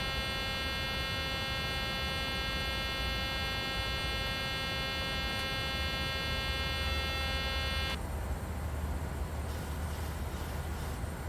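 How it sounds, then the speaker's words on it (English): Gear warning buzzer in a PMDG 737-800 cockpit in Microsoft Flight Simulator 2020, a steady, harsh electronic tone sounding continuously over a loud engine and cabin hum, then cutting off abruptly while the drone carries on. "How do we get rid of that buzzer?"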